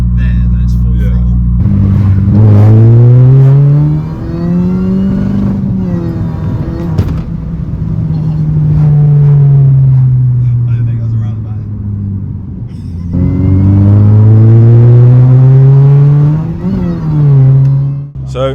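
A modified car's engine in Sport plus mode at full throttle, revs climbing in loud surging pulls that fall back and rise again, heard from inside the cabin, with people talking between and over the runs.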